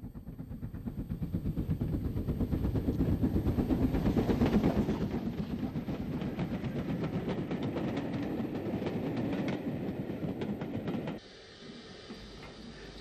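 A GNR VS Class steam locomotive, renumbered 58 by the Ulster Transport Authority, passes Fairview on a run from Belfast in the 1960s, a loud rhythmic rumble and clatter of wheels that drops off abruptly near the end.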